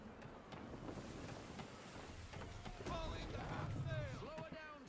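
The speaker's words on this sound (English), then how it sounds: "Wind looks to be shifting. Stay alert, Connor. Gusty winds can be difficult to manage." Gusty wind howling across open sea aboard a sailing ship in the video game Assassin's Creed 3, a steady broad rush with waves and creaking under it, plus faint whistling tones near the end.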